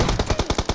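Rapid automatic gunfire from a weapon in the battle royale game BGMI, a fast regular burst of about nine sharp, loud shots fired close by with no voices.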